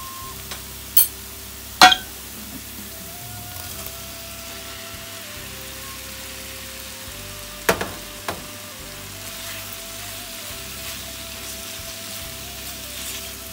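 Beef sautéing with spice paste for sate padang makes a soft, steady sizzle, broken by a few sharp clinks of a spatula against the pan.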